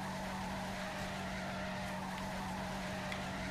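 Car tires screech continuously in Saints Row: The Third, a steady, moderately loud skidding squeal with a constant low hum beneath, unbroken throughout.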